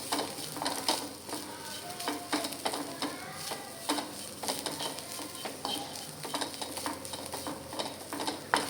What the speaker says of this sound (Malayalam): ഇതൊന്ന് ഇളക്കി ആ തേങ്ങായ ആ നെയ്യിലേക്ക് ഒന്ന്